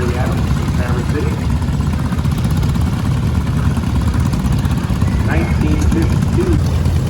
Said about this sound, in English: 1945 John Deere LA, owned by Larry Adams from Traverse City.